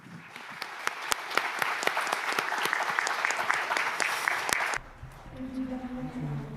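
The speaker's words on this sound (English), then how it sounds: "please give a warm round of applause to the panelists for their presentations and the discussions" An audience at a panel discussion claps loudly and steadily for several seconds, then the applause stops abruptly and a voice starts speaking.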